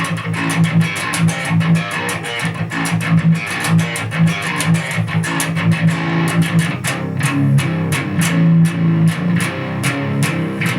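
Heavy distorted low djent chugs from a Kiesel Zeus multiscale seven-string electric guitar in tight, syncopated palm-muted bursts with brief stabs between them, loud and dry without reverb, with no talking.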